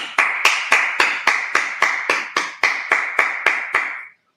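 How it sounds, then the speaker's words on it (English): An audience claps in unison at a religious gathering, about twelve loud, evenly spaced claps in a steady rhythm that stop cleanly. "All right, let's clap it up."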